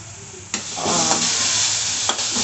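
Chana and mashed boiled potato mixture being stirred and fried in a pan, with a steady sizzle and two sharp scraping strokes of the spoon, close and alone with no talk.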